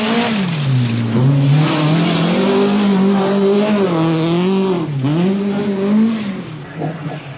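A Vauxhall Chevette rally car on a special stage at Weston Park, 1981 Lombard RAC Rally, revs hard close by, its engine note climbing and dipping through gear changes before fading slightly at the end.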